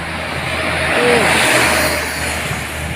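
A tow truck races past at high speed on a bend, its engine and tyre roar swelling to a peak mid-pass and then easing away, loud and continuous throughout.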